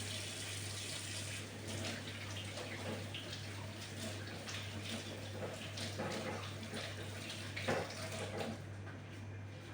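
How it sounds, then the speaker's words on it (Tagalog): Hands are washed under a running tap, a steady close gush of water that continues with slight variations and splashes for the whole stretch, with a low constant hum beneath and no talking. "Maghugas ako ng aking kamay."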